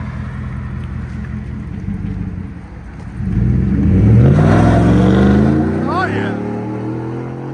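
A 2018 GMC Sierra Denali with a 6.2L V8, Carven R-Series exhaust, resonator delete and 5-inch tips: the loud engine idles, then revs up hard and holds a deep roar before easing off, with a brief exclamation over it.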